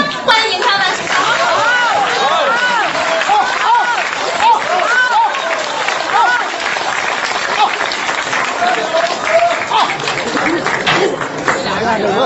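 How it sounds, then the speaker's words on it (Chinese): An audience applauds to welcome xiangsheng crosstalk comedians, including Wang Zijian, onto the stage: loud, dense, continuous clapping with crowd chatter, while a voice talks over it. "掌声欢迎他们"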